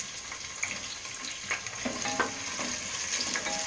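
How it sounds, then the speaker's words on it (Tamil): Onions sauté in about 100 ml of hot oil, a steady close sizzle with occasional stirring scrapes and crackles throughout. "வெங்காயம் போட்டு வதக்கிக்கலாம்"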